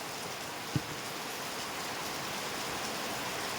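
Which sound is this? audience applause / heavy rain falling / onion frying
heavy rain falling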